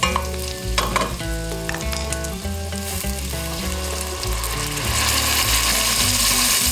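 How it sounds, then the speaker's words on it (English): Onions and turnips for soul food turnip greens sizzling hard in a hot pan as their moisture deglazes it, a loud continuous crackle and hiss with clicking stirring, growing slightly louder toward the end. "You see how those onions and turnips literally deglaze the pan because they've got the moisture in them."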